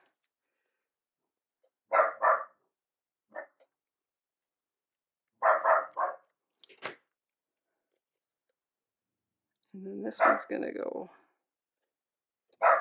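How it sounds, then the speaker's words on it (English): Several short bursts of dog barking, loud and close, separated by pauses, with a person speaking briefly in between. "Sorry about the dogs."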